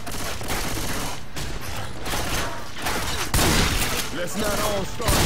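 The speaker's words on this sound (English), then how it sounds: "Let's not all start shooting at each other now." Dense bursts of rapid gunfire and clattering mechanical shots fill a zombie video game battle, loud and nearly continuous with a sharper flurry partway through.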